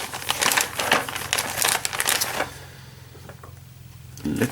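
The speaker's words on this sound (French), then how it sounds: "avant tout, on va déballer les pièces" Parts of an Eaglemoss 1/8 scale Ecto-1 model come out of their plastic packaging with loud close crinkling and rustling bursts for a couple of seconds, then a quiet pause before another rustle.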